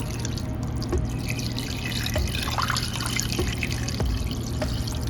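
Roughly two cups of water trickle and splash into a pan holding sliced jalapeno, a steady close pour of about five seconds with a few drips and no voices.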